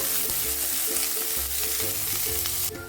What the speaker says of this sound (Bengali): এখন কুচুনো পেঁয়াজ দিয়ে দেবো একটি পেঁয়াজ দিলাম